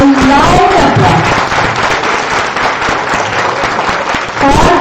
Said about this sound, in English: give the boys and men who are present in this hall a big round of applause. Very big round of applause. A loud applause.